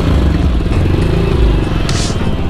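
Motorcycle engine rumbling close by at a highway toll booth near Santa Ana, Sonora, a low steady idle with some clatter underneath, and a brief voice partway through.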